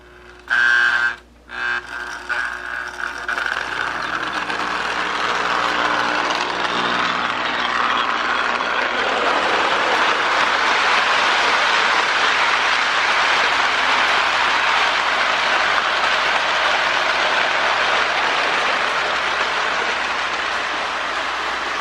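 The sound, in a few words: toy electric train running on track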